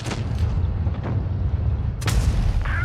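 Tank cannon shots in an online tank battle game: several heavy booming blasts, with a loud sharp report near the end followed by a short mechanical rattle, all close and with no talk over them.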